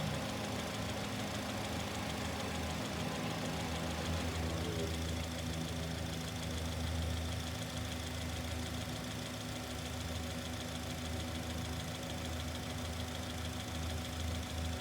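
A fuel injector on a running engine, heard through a mechanic's stethoscope, gives a steady, fast ticking knock over a constant engine drone, close and unbroken throughout.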